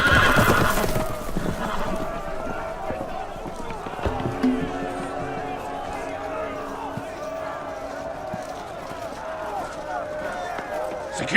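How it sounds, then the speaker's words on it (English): Horses neigh and whinny in a Game of Thrones game scene as they break loose, with a sharp whinny at the start followed by clattering hoofbeats and commotion that carry on at a steady level. "The horses! They're loose!"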